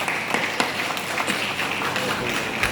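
An audience at a Pakistan Club 14 August celebration claps for the volleyball organizer, a dense, steady patter of many hands that stays fairly loud and even for a few seconds.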